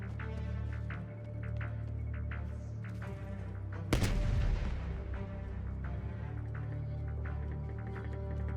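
In-game M79 grenade launcher on the Crossroads Strike map fires one sharp boom with a rolling blast tail, set against a steady low ambient hum and faint background noises.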